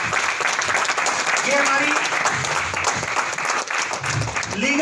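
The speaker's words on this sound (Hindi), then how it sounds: "आप लोग इन सब की ताली बजाइएगा।" Applause from an audience at a women's gathering, steady clapping that fills the room, with someone speaking over it.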